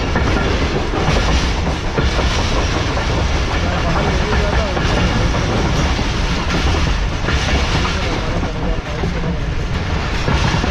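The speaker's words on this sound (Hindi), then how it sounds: "ये मिलर एक्सप्रेस का रेक जो है ये वॉशिंग लाइन में इस वक्त प्लेस होने के लिए आगे जा रहा है" The rake of the Millat Express rumbles along toward a washing line in Karachi, a loud, constant roar of rolling wheels with steady clickety-clack over rail joints.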